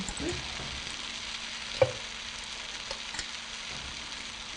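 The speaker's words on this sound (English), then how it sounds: "Now the leeks are soft, we put in some bean sprouts." Leeks and bean sprouts stir-fry in a pan, giving a soft, steady sizzle with a few light scrapes and clinks of stirring and no talking.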